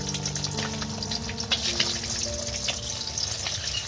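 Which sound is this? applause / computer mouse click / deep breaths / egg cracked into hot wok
egg cracked into hot wok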